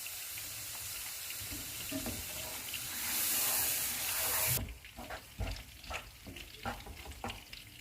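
Milk poured into a pan of flour roasted for three minutes, with a steady pouring hiss that cuts off, followed by close stirring and scraping strokes as the roux thickens; no voices.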